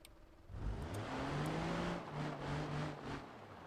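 Kei truck engine in the BeamNG driving game revving hard during a mud run at a storage lot, its pitch climbing and dipping in steady waves, loud and close with no talking.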